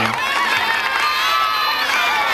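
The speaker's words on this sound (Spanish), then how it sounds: "A ver, un aplauso fuerte para ella." Loud crowd cheering and whooping greets a performer at a community nostalgia show, with a dense burst of enthusiastic shouts throughout.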